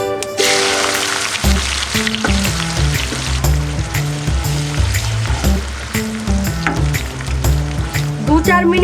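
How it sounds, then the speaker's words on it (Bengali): Chopped onions fry in oil with cardamom and cumin for chicken do pyaza. A steady, crackling sizzle runs under prominent background music for the whole stretch, with no talk. "দু 4 মিনিটের জন্য পেঁয়াজগুলোকে ভালোভাবে ভেজে নেব"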